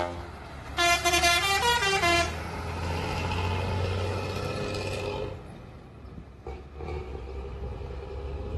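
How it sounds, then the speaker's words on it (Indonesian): A bus's loud ship-style air horn blasts in several short, stepped honks over a steady diesel engine rumble, a front-engine non-air-conditioned bus once run by Harapan Jaya, then the engine drones on alone. "Klakson kapal, wong."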